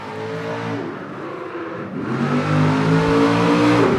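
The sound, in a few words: fire truck driving past and revving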